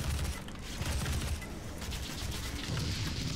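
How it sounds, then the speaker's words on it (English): Missile fire from the DOOM video game comes as a dense, continuous rumble of rapid blasts and mechanical clatter. It runs loud and steady throughout, with no voice over it. "There's a few missiles for you."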